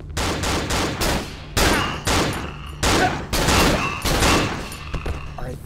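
Repeated gunfire bursts in the survival horror video game Cry of Fear, several loud close shots spaced irregularly over a low droning ambience, with no talking.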